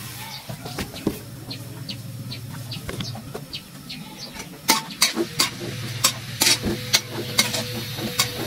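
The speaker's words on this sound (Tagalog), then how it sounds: "Magigisa na natin sa sarili ng mantika." Chili and pork sauté in their own rendered fat in a pan, a steady sizzle under scraping stirs and sharp utensil clacks that grow busier toward the end, with bird clucks faintly behind.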